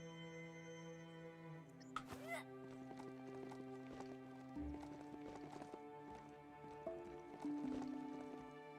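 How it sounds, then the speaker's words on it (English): Donkey hoofbeats clip-clopping in the game Biomutant, a run of light, rapid hoof thuds over busy game music, with an occasional whinny-like call and scattered effects. "There goes your donkeys."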